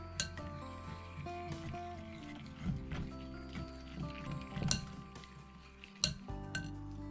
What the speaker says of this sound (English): we're going to whisk the ingredients until combined